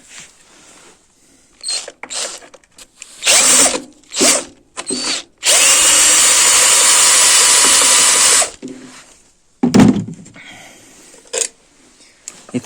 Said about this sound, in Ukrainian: Ці болти я так не люблю, бо вони погано відкручуються.